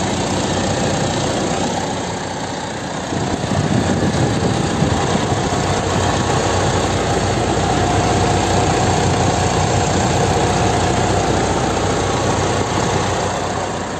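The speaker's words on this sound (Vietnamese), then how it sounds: "toàn bộ máy động cơ hiện tại là rất chi là tốt, chạy rất chi là êm." A freshly serviced 2009 Mitsubishi Triton pickup with a 2.5-litre diesel engine and manual four-wheel drive idles steadily and smoothly close by, a continuous even rumble with no voices.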